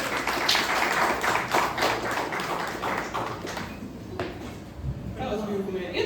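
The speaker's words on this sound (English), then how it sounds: "Give it a round of applause for Alex, man." An audience at a WordPlay Thursdays poetry night at Gallery Off Vine applauds a poet: dense, steady clapping from a room-sized crowd runs throughout, with voices mixed in.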